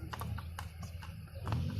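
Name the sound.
horse hooves clip-clopping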